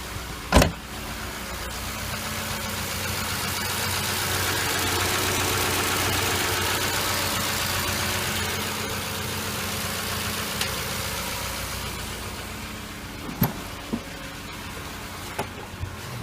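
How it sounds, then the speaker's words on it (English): A car engine idles steadily with a smooth, even hum, broken by a few brief clicks and knocks near the start and end. "this is how a regular engine should sound like"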